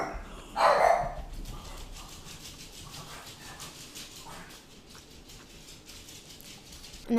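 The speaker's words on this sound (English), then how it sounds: "Our neighbor's dog is the most" A neighbor's dog lets out one loud, close bark near the start, followed by fainter yips and whimpers against a quiet background.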